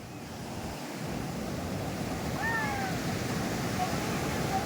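Sea surf rushes in a steady, unbroken roar along the shore at Gokarna, with a faint thin whistle rising briefly midway.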